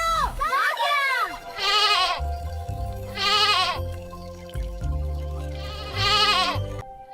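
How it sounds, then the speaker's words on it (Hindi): A goat bleats loudly three times in long wavering cries, heard close, with a voice and other talk in between and beneath. "बकरा आ गया, बकरा आ गया।"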